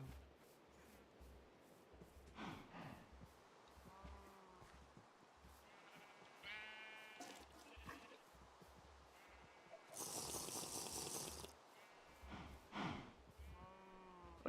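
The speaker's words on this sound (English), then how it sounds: "Come on, little sheepy sheeps." Minecraft sheep bleat in several short, wavering, nasal calls scattered across the stretch, fairly close but quiet, with soft thumps and a burst of hissing noise between them.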